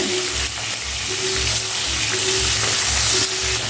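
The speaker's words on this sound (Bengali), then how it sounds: "তখন একটা একটা করে মাছ দিয়ে ভেজে নিতে হবে" Pabda fish frying in hot oil, a dense continuous close sizzle with a faint recurring low hum underneath, no voices.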